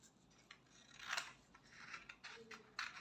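Scissors snip through fabric while a layered off-shoulder cape is being drafted and cut, giving several short crisp cuts with rustling between them, close and fairly quiet.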